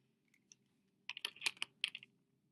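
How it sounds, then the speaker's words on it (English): Plastic calculator buttons pressed in a quick burst of small clicks and taps while entering a logarithm problem, close and clear, with a few isolated presses before the main run and no talking. "you can type it in your calculator exactly like that"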